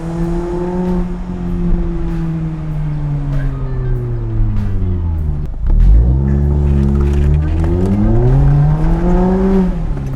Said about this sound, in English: Put it to sport mode and see if this car drifts or not.